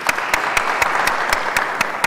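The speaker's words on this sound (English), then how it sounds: "Can we give him a round of applause," Audience applause at a ministerial and CEO round-table conference panel, a steady dense clapping with sharp individual claps standing out, loud and close, with no voices over it.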